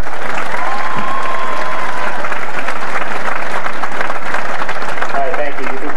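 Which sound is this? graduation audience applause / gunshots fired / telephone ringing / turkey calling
graduation audience applause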